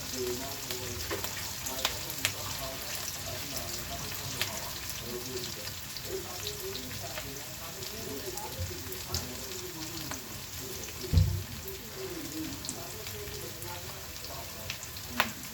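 Onions frying in a pan until light brown, a continuous soft crackling sizzle with occasional spatula scrapes and a louder knock near the end, a television murmuring faintly in the background.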